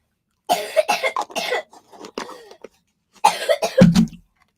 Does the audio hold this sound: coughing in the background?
yes